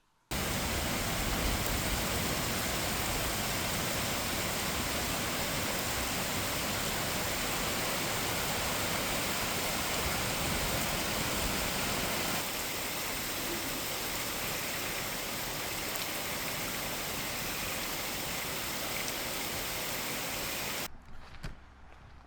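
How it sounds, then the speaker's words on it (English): Steady rain and running water on a homestead driveway beside a swale, a dense, even hiss that stays loud and unbroken for about twenty seconds, easing slightly partway through before cutting off. "I took some footage of the rain happening here."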